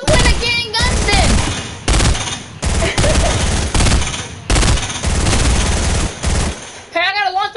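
Gunfire in Fortnite, repeated loud bursts of shots in rapid succession with brief gaps between volleys, close and dominant, with a short tonal game effect near the end.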